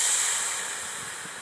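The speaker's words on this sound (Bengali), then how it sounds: "এবার দিয়ে দিচ্ছি জল।" Water poured into a hot pan of well-fried spices while cooking a banana-flower and prawn dish, giving a loud steady steam hiss that fades slightly over a second and a half, with no talking.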